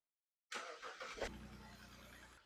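A BMW N54 engine cranks briefly after coil pack work, catches and settles into a steady idle, heard up close with no talking.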